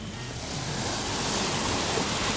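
Sea surf breaking at the shore during artisanal beach fishing at Santa Clara del Mar, a steady, close wash of waves with wind noise across the microphone and no voices.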